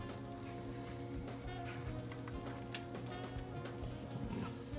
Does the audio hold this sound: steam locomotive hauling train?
no